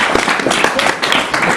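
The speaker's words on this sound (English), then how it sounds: "By applause, photo." A live audience claps together in a dense, steady burst of applause, as if voting on a photo-or-painting question. The broadband clapping fills the whole moment, close and fairly loud, with no clear gaps.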